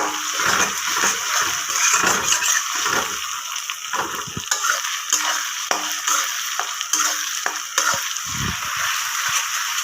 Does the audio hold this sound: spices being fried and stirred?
yes